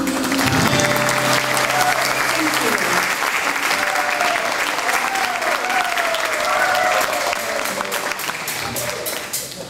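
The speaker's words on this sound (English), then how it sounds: "The horn section always gets an incredible applause" An audience applauds the horn section at a folk music performance, with dense, sustained clapping from a crowd that carries on for about ten seconds and thins slightly toward the end.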